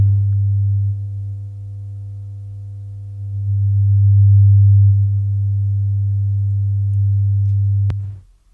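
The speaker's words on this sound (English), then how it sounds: "But that's what 100 Hz sounds like." A steady 100 Hz sine test tone hums loud and pure for about eight seconds, swelling slightly in the middle, then stops abruptly with a click.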